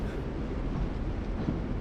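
Passing train, a dense continuous low rumble with rattling, steady and loud for the whole stretch, no voices.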